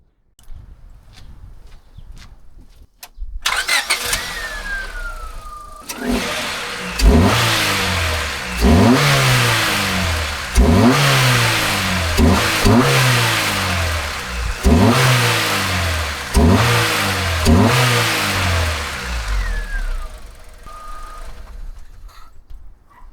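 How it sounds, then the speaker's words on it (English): A 1999 Honda HR-V with a VTEC engine cranks and fires up, then is revved hard about six times in a row, each rise and fall clear and close over a steady idle. "let's have a start up and rev."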